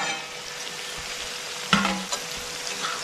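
Potato slices frying in a pan are stirred, giving a steady close sizzle with a sharp scrape of the utensil midway and a softer scrape after, with no talking.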